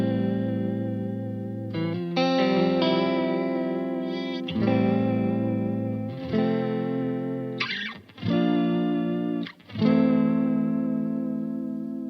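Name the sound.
80s-style chorus effect from STOY Choir Boy pedal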